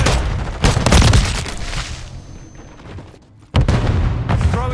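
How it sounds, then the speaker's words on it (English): A stun grenade bursts amid gunfire in Call of Duty Modern Warfare 3: loud cracking shots and booms fill the opening, fade to a lull, then a sharp blast returns near the end. "Stun grenade."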